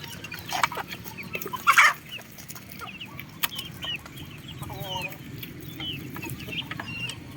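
A big broodcock of more than four kilos clucks in a breeding pen, with a few low scattered clucks and one loud close burst early, then quieter fowl sounds over a soft background.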